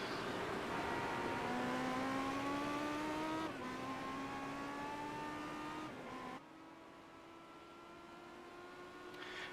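Race car engine on track during qualifying, a single car droning at high revs through rising gear pulls with shifts, loud and steady with no talk.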